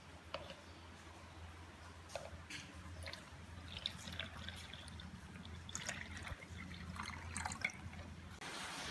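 Rain dripping and trickling steadily nearby in Jakarta, with scattered irregular drops over a soft background wash.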